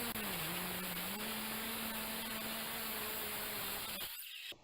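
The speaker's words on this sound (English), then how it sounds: "I got my chop saw set up to cut metal here" A chop saw cutting metal pipe gives off a faint, steady whining drone that holds for about four seconds and then cuts off abruptly.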